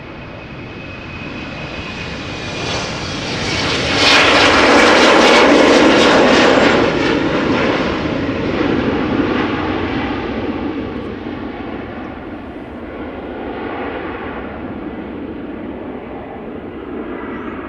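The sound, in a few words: KLM Embraer 190 jet departing Amsterdam Schiphol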